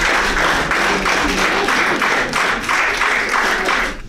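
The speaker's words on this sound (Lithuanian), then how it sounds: "Gausius plojimus" An audience claps in sustained applause, with dense rhythmic clapping surging in waves, loud and close, with no voices over it.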